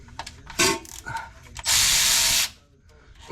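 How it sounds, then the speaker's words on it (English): A power ratchet unbolts the rear differential on a Ram Power Wagon, a short buzz followed by a longer loud whirring burst of about a second, close by, with brief speech around it. "So I've got my trusty power ratchet. We're going to get this thing unbolted."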